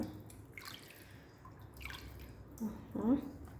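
Water is poured and splashed in a bowl while raw chicken is washed in vinegar water. The sound is faint and uneven, with scattered drips and small splashes that grow a little louder toward the end.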